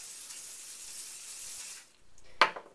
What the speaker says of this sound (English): I'm going to first spray it with Root Booster